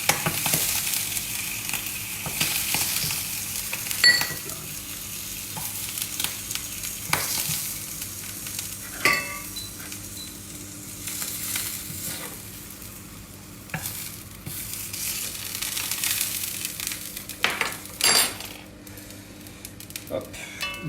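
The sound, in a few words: squid frying in a pan for risotto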